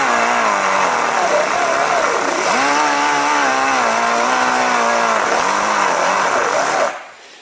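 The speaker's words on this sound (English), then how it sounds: "You can even take that burr tool if you see a place like I do right here." A rotary burr tool grinds into a damaged car bumper with a loud, high whine. The pitch wavers as pressure shifts, then the tool cuts off abruptly near the end.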